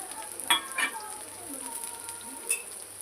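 Chopped vegetables and chilies frying in a pan, a faint steady sizzle with a few sharp clinks from stirring near the start and end.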